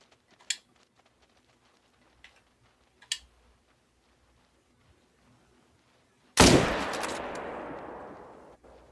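A rifle gunshot in the hunting video game theHunter: Call of the Wild rings out as one loud, sharp blast with a long echoing tail, after a few faint clicks and small taps in a quiet scene.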